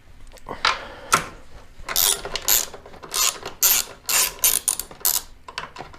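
A ratchet wrench backs out a bolt on a 2021 Jeep Gladiator during a headlight swap, loud close bursts of rapid clicking pawl strokes in repeated short runs with brief pauses between.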